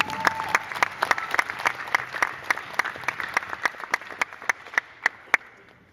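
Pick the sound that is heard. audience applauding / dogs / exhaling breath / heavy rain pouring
audience applauding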